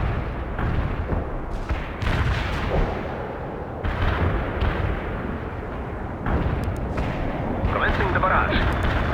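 Artillery barrage from the video game World in Conflict, a dense rumble of repeated booms and thuds that runs loud and steady through the whole stretch, with radio-style voices talking over it.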